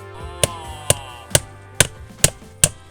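Six sharp hammer blows tacking nails into a timber cavity batten over head flashing on a beach house renovation, evenly spaced, close and loud against a quiet background.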